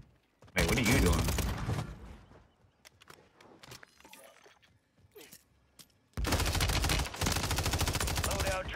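A Glock fitted with an auto switch fires fully automatic in Warzone 3 on Rebirth Island: two long, loud, rapid bursts with scattered single shots and clatter between them.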